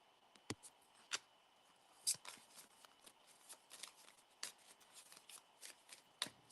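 Tarot card deck being shuffled by hand, giving soft, quiet riffling taps and flicks scattered irregularly over a faint background, with no talking.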